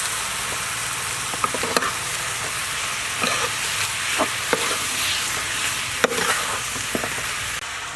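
Shrimp paste fried rice sizzles steadily in a hot pan while a utensil scrapes and stirs it, sharp clicks of spatula on metal breaking through the constant hiss.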